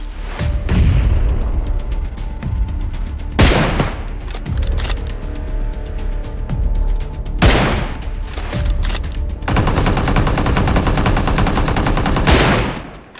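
Gunfire in the mobile battle royale PUBG Mobile: loud, near bursts of automatic fire and sharp single shots recurring throughout, with a sustained heavy volley toward the end.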